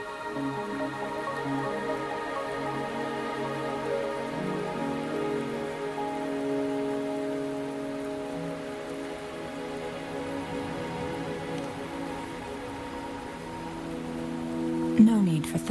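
Constant rainfall hiss in the video game Wuthering Waves blends with a sustained, droning musical backdrop, with a short burst of louder activity right at the end.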